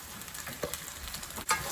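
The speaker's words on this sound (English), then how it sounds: "And then just stir fry all together." Ginger, garlic, star anise and bay leaves stir-fried together in a pan for beef noodle soup, a continuous close sizzle broken by spatula scrapes and a sharp flare-up of hissing near the end.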